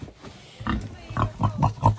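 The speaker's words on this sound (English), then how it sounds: "Here's our pigs. They're all laying down right there." Pigs on a farm, in a barn, grunting in a run of short, close oinks that come more often toward the end.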